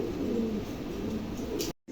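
Pigeons cooing in a loft of newly adult birds kept for sale, a steady low murmur of several birds close by that cuts off abruptly near the end.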